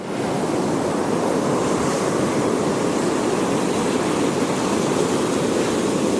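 Ocean waves breaking on Calangute Beach in Goa, India, a loud continuous wash of surf with wind noise on the microphone, no voices.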